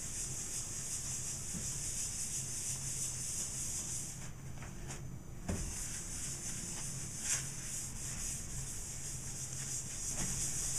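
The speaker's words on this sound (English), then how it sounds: "I just take a little bit of the paste wax and I rub it in." Paste wax is rubbed by hand into a wood finish coated with boiled linseed oil, a faint steady rubbing and hissing friction that continues evenly, with a couple of soft taps along the way.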